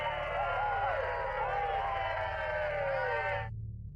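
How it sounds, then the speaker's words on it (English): Crowd cheering in the MechWarrior 5 video game at the end of a Rasalhague campaign, a dense steady roar of many voices with whoops that holds loud for about three and a half seconds and then cuts off sharply. "The cheering was a little bit weak."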